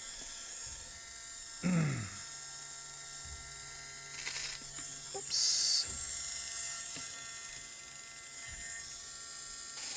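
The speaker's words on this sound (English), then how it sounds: "I avoid sanding the nails as much as possible." A small handheld rotary sanding tool buzzes in short bursts while sanding fingerprints off a surface, a close, high whine starting and stopping with brief gaps, and a voice makes a quick exclamation.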